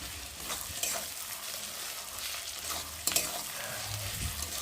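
Ginger and cumin paste sizzles steadily in hot oil, with intermittent stirring clatter and a sharper scrape or clink near the middle, close and moderately loud, without any talk.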